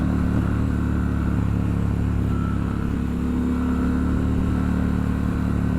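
Triumph Scrambler 1200 XE motorcycle on knobby tires being ridden on the road, a steady low engine drone with constant rumble and wind noise, close and even with no shifts in pitch.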